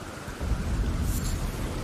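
Steady rain falls in the video game Elden Ring, with a deep low rumble of thunder rolling underneath the continuous wash of rainfall, no voices.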